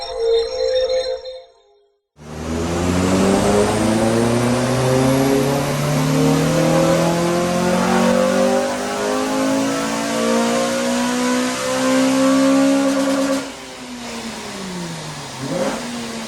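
Honda Civic FN2 Type R engine on a dyno during a power run, loud and close, revving steadily upward through the gears in a long climbing wail before easing off and dropping back, with no talk.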